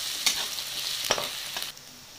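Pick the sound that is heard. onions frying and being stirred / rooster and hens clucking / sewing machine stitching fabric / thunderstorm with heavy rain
onions frying and being stirred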